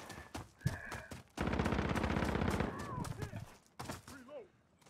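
Gunfire in Call of Duty from an AX-50 and surrounding weapons, a loud rapid burst of shots with sharp single cracks before and after, mixed with game effects.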